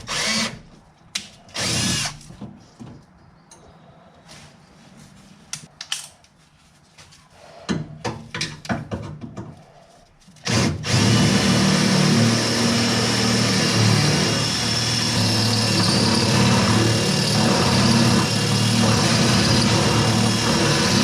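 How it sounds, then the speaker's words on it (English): A power drill bores out a part on a Datsun 521 in a restoration garage; after some quiet clinks and handling noises, the drill starts suddenly and whines steadily and loudly for about ten seconds. "I could drill that thing out."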